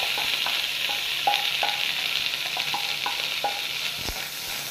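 Boiled sweet corn frying in butter in a pan, a steady close sizzle broken by soft scraping clicks as it is stirred, with no talk.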